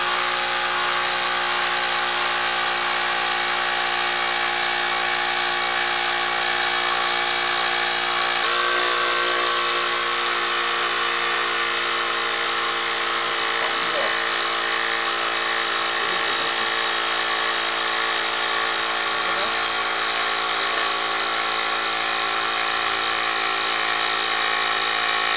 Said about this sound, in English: Calculate the pressure, then start the air pump.